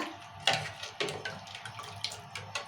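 Tamarind water is poured into rasam in a pot, giving soft splashing and trickling with a few small sloshes, faint and close, with no talk.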